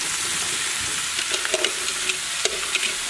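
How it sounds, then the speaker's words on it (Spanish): Garlic and mixed vegetables fry in a pan with a steady, bright sizzle and hiss, with a few louder crackles and pops as the pieces settle in the hot oil. "Aquí tengo todos los vegetales juntos. Miren, aquí tengo el ajo encima, aquí tengo todo y lo vamos a poner a freír."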